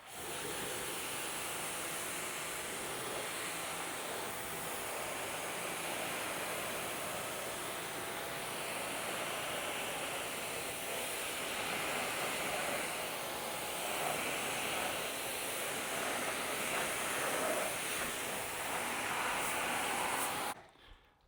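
Water sprays steadily over a car to rinse off soap, making a continuous broad rushing hiss that holds for about twenty seconds and then cuts off abruptly.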